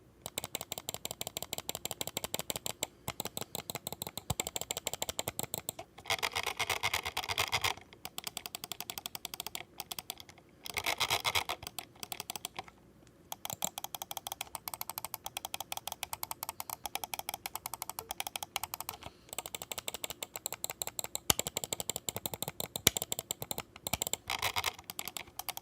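Button presses on a Zowie ZA13-C gaming mouse: sharp, close clicks arriving in quick bursts and short runs with brief pauses between, alone and without voices.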